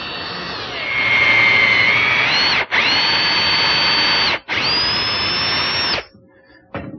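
A power drill bores a screw hole into the post of a Windsor chair, its high whine running loud and steady in three long bursts with brief stops between them, ending abruptly.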